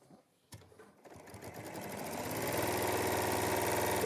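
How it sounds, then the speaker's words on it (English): A sewing machine running for free-motion quilting, with a single thump before the motor starts and then builds into a rapid, steady stitching chatter that grows louder and holds, close and alone. "But you're just sewing on the lines."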